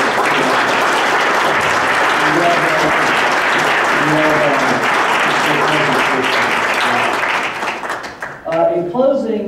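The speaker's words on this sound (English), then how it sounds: "if you could all offer applause for our" Loud, dense applause from a large audience fills a membership meeting hall, sustained and steady before thinning out near the end as a voice begins speaking.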